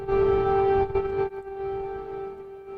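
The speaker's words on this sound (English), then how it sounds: "Warning sirens sounded, but no attack materialized." A loud, steady wailing air raid siren holds one tone, then drops off and continues more quietly, sounding like a distant warning siren.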